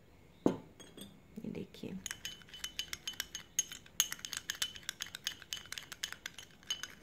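A spoon clinks and scrapes rhythmically against a bowl while coffee, cocoa powder and milk are stirred into a thick scrub paste; quick close taps repeat steadily after a brief spoken remark at the start.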